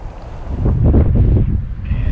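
Strong gusts of wind buffeting close to the microphone, a low roaring rush that swells and fades over a couple of seconds.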